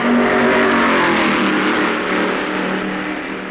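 A 1965 NASCAR stock car roars loudly around the Darlington track in the Southern 500, its engine a steady, heavy drone close by. The roar fades slightly over a few seconds as it passes.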